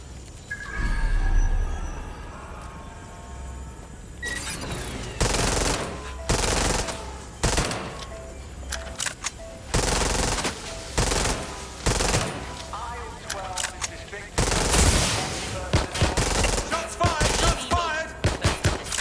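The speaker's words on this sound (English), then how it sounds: "Shots fired!" Loud bursts of rapid automatic gunfire from Watch Dogs Legion on PS5 come in uneven volleys with short gaps between them, alongside faint voices.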